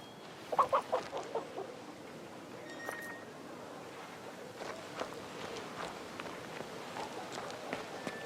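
Chicken clucking in the King's Bounty II video game: a burst of short, sharp clucks near the start, then softer scattered calls over game ambience and light footstep-like rustling.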